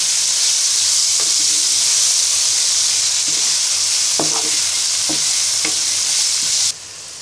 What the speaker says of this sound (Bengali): সব মশলার সাথে সবজিগুলোকে নেড়ে নিব।